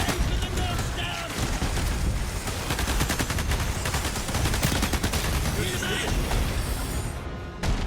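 Gunfire rattles in Starship Troopers: Ultimate Bug War, dense rapid shots and booms running continuously and loud, with a person talking underneath.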